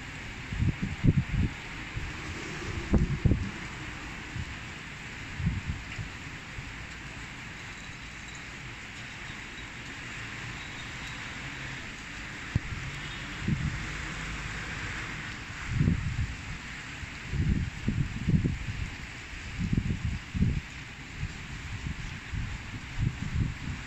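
Very strong wind blowing on an evening in Kaynarca, Pendik, Istanbul, ahead of a downpour: a steady broad roar with repeated low buffeting gusts thumping against the microphone.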